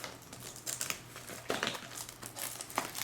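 Plastic packaging around iPhone 3G cases crinkles and crackles close up in several sharp, uneven bursts as it is peeled open, with no voice over it.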